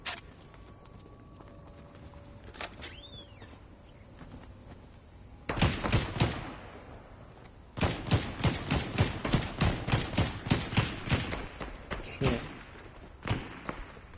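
Gunshots in the Fortnite video game: after a quieter opening, a single loud blast is followed by a fast run of evenly spaced shots firing in rapid rhythm, then one more isolated shot near the end.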